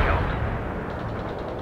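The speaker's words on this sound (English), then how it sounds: "We can deploy and lay down a heavy barrage." Heavy artillery barrage in World in Conflict, a loud rumbling mass of deep booms and blasts close by, continuous for the whole short stretch with no talk.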